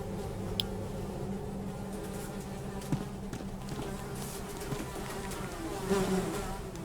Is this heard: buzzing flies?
yes